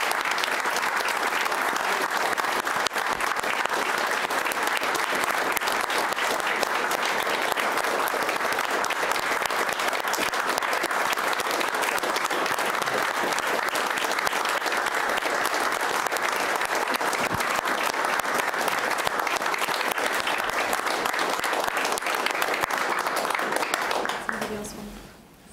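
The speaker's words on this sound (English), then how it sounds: "why don't we offer a round of applause to all of our honorees today and the families." An audience at a county board of supervisors meeting applauds its honorees, steady dense clapping that holds for about 25 seconds before fading at the end.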